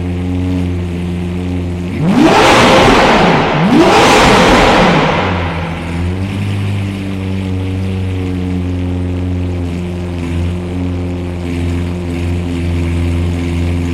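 A Lamborghini Aventador Roadster LP720-4 engine idling loudly, then revved hard twice in quick rising bursts to around 3000 and 4000 rpm before dropping back to a steady, rumbling idle.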